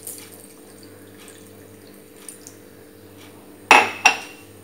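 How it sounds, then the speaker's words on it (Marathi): A cup of water is tipped into horse gram flour mixture, giving two short close splashing pours near the end after a quiet hum, with no talking. "हा जे कपभर पाणी घेतलं आहे हे पूर्ण ह्याच्यात इथे टाकणार आहे"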